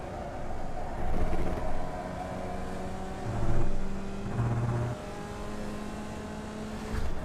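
IndyCar engines lapping an oval in iRacing at Iowa Speedway produce a sustained high-revving whine with steady pitch, swelling in loudness as other cars close in and pass, moderately close throughout.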